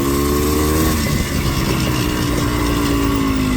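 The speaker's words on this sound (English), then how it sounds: "Like this is good cruising throttle." A four-wheeler ATV engine holds a steady cruising throttle, its loud, continuous drone dipping briefly in pitch before settling at an even, sustained note close by.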